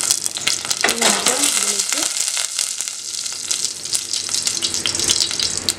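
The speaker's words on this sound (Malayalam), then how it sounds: "കടുക് പൊട്ടിയിട്ടുണ്ട്." Mustard seeds sizzle and crackle in hot coconut oil, a loud, dense frying hiss with sharp pops all the way through. There is a brief voice near the start.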